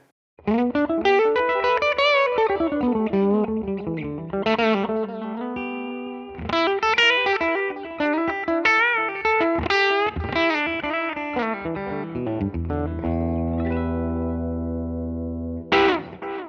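An electric guitar through a Line 6 Helix amp with a Grammatico cabinet simulation, driven and effects-laden, plays a melodic phrase with sustained notes and chords, ending on a fresh strum.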